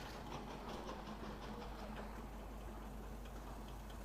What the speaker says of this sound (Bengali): ওই বেশ ট্রেন আসতেছে তো